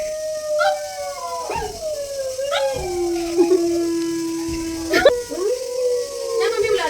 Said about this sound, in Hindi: मेरे घर में 3 कुत्ते, वो देख कोको को देख।